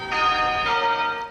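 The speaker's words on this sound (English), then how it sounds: "bells ringing out for 10 minutes in Cape Town, honoring Archbishop Desmond Tutu" Church bells ring out in Cape Town as a tribute to Archbishop Desmond Tutu. A single loud, sustained peal with bright overtones swells and then slowly decays over a second or so, with no voices.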